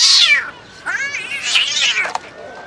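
Street cats in Essaouira, Morocco, released after being neutered, yowl and caterwaul loudly up close in several wavering, drawn-out cries.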